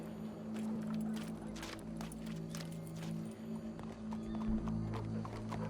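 Horse hooves clip-clop in Red Dead Redemption 2, a steady, even rhythm of soft thuds over a continuous low hum of background ambience.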